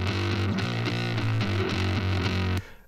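Reamped bass guitar picked up by a Neumann TLM 103 condenser in a thrash metal mix, a gritty, distorted tone of steady picked notes for over two seconds before stopping abruptly, no voices.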